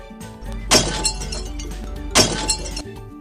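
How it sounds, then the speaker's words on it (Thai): Glass shatters twice in quick succession, each break a loud sharp crash with a tinkling spray of fragments that rings briefly before dying away. "เสียงต่อไปครับที่เด็กๆได้ฟังก็คือเสียงแก้วแตกครับ"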